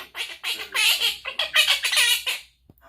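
A pet quaker parrot gives a run of loud, harsh squawks and chattering calls at close range, ending abruptly in silence.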